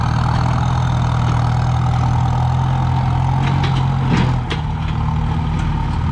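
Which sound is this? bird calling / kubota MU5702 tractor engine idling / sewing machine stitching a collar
kubota MU5702 tractor engine idling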